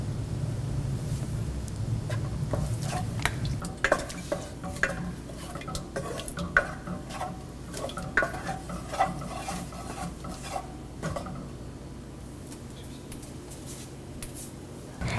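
Curd being stirred into warm pineapple pachadi in a pan, with a steady run of soft spoon scrapes and wet stirring clicks close by, a low hum underneath.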